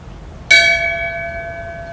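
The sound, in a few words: bell rung in memory and tribute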